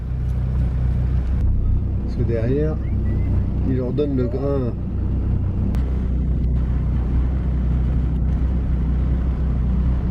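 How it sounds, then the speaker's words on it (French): A car driven through the Australian outback gives off a steady low engine rumble and road drone from inside the cabin, continuous throughout while people talk over it. "Maintenant j'ai comme mission de conduire la voiture"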